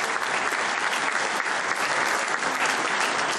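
Steady, dense applause from an audience at a GEN party meeting in Mar del Plata, greeting newly named national party officials; loud, continuous clapping with no break.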